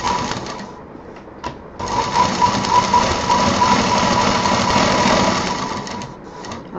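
Close, loud sewing machine stitching the side seam of a fabric sling bag, a brief start-stop burst then one sustained whirring run of about four seconds before slowing to a stop, with no talking.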